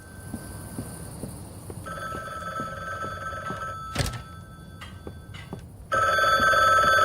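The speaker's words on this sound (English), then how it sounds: "Is that my phone or is it someone else's phone?" A telephone rings in the video game The Bookwalker: Thief of Tales. Quiet at first under a low hum, the ringing turns into a loud, continuous electronic trill for the last second.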